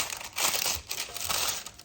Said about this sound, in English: I'm going to use some parchment paper.